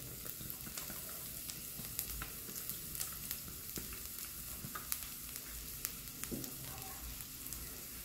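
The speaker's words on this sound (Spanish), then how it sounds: "Y vamos a agregar el ajo para ya preparar lo que es la carne." Garlic sizzling in hot oil in a pot, before the meat for nachos goes in: a steady, close crackling hiss with scattered sharper pops, heard alone without talk.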